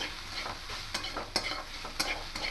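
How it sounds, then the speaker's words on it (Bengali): A watermelon rind mixture is stirred in a pan over a low flame, giving a gentle steady sizzle with repeated rhythmic scrapes and light taps of a spoon against the pan, close by. "খুব ভালো করে মিশিয়ে নেব এইভাবে লো ফ্লেমে রেখে"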